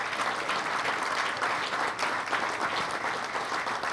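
An outdoor crowd at a 2016 boardwalk dedication ceremony applauds steadily, a dense, sustained wash of many hands clapping throughout.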